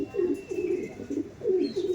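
Chennai breed pigeons coo in a steady run of repeated rolling calls, close and clear, with no talking over them.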